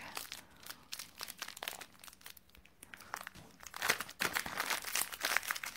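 Small plastic bead bags crinkle and tear, sharp rustling and ripping bursts close up, moderately quiet with no voices.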